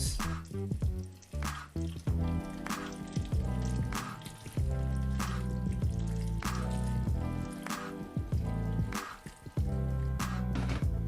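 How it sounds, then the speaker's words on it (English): Water is added down the side of a pot of moi moi in a home kitchen, a run of wet drips and squishy splashes in an irregular rhythm, close and fairly loud, with no talking. "When you're adding the water, please add the water by the side of the pot."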